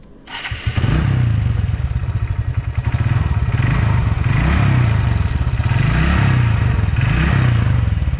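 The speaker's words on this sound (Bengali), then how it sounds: "তো গাড়ি এখন পুরো ওকে তো ইঞ্জিনের সাউন্ডটা শোনাচ্ছি" A Hero Hunk motorcycle, fresh from a piston change, starts up and settles into a loud, close, steady idle with a rhythmic throbbing pulse and slight rises in revs, no voices over it.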